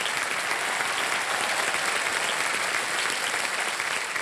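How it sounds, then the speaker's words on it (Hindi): A studio audience on the quiz show Kaun Banega Crorepati applauds a contestant after a correct answer, producing dense, loud, continuous clapping that holds at an even level throughout without voices. "तालियां बज जाए उनके लिए"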